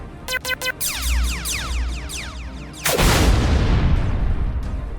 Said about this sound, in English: He pulled down on the firing bar and XR's crimson laser beam shot out toward the Ock ship.